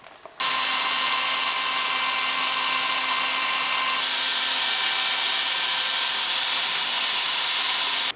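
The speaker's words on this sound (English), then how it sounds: "I'm gonna just sand this down with the flexible shaft and the little sanding disc." A flexible shaft rotary tool with a small sanding disc grinds copper for jewelry, giving a steady high whine and gritty hiss that starts abruptly, runs continuously for about eight seconds without speech, then cuts off.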